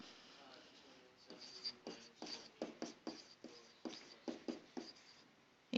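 Marker or chalk strokes writing out a math step on a classroom board, a run of short scratchy strokes in an uneven rhythm, close and fairly clear, with no talk over them.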